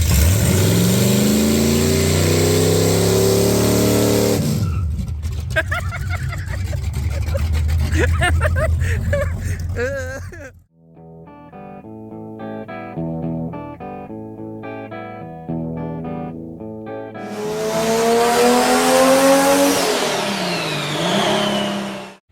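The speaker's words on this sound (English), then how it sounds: "The Roadrunner is going to do a burnout." A 1969 Plymouth Road Runner revs hard for a burnout, its V8 engine roaring loud and close in rising bursts. A stretch of music interrupts in the middle before the engine screams again.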